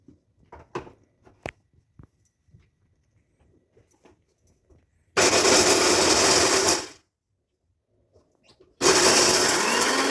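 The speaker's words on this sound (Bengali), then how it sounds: "মাখানাটা মিক্সিতে পেস্ট করে নেব" Mixer grinder grinding fox nuts (makhana) into a paste, running in two loud, dense bursts of whirring about two seconds each, separated by quiet handling clicks and small knocks beforehand.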